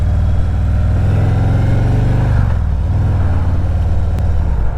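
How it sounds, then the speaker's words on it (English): A loud, close Harley-Davidson Ultra Limited motorcycle engine with an aftermarket exhaust rumbles with a deep throaty note, revving up, then dropping back to a lower idle-like drone. "Aftermarket exhaust sounds good. Not too loud, not too quiet."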